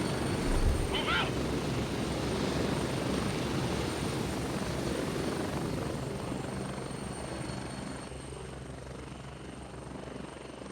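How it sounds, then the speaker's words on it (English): A military helicopter in the shooter game Gray Zone Warfare flies away, its loud, steady rotor roar slowly fading with distance, with a brief shout near the start. "rather good directional audio on that helicopter leaving"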